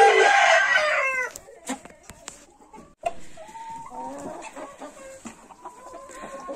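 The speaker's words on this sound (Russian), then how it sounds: "Это все курочки, которые у меня несут не инкубационное яйцо" Hens in a henhouse give a loud burst of overlapping squawks and cackles. Softer scattered clucks and calls follow, alongside a rooster-like crowing phrase and some rustling.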